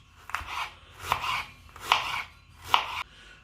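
Onions are chopped with a knife in four steady, evenly spaced crunchy strokes, close up and clear with no talking.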